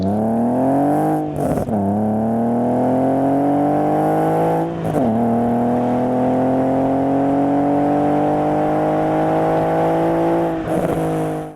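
BMW E46 330ci with the M54B30 straight-six and a sport exhaust back box, revving repeatedly with a deep, steady drone, three short throttle blips or gear changes breaking the sustained pull, loud and close.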